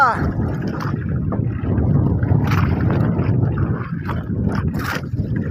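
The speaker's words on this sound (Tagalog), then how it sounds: "Nahangin-hangin na ang habagat guys." Southwest monsoon wind blowing across open sea from a small fishing boat, a steady broadband roar and buffeting against the microphone, loud and continuous with water and hull noise beneath.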